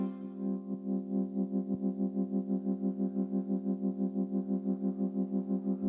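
Arturia MicroFreak synthesizer holding a steady droning tone, its filter cutoff modulated by an envelope-to-LFO connection, giving a fast regular wobbling pulse throughout at moderate, fairly quiet level.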